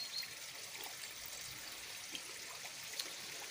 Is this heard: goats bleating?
no